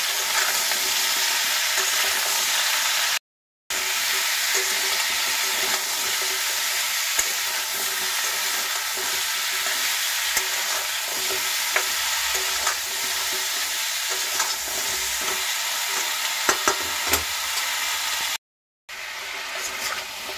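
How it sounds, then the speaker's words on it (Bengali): Pumpkin seasoned with salt and turmeric fries in a pan, giving a steady, even sizzle that runs alone for the whole stretch, broken only by two brief gaps. "এবার কুমড়োটাকে একটু ভেজে নেব।"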